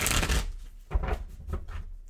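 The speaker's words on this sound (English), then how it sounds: "Couple more shuffles." Tarot cards are shuffled in a few quick riffling bursts, close up, with brief pauses between each shuffle.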